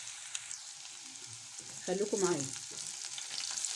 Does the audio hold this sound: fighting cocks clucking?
no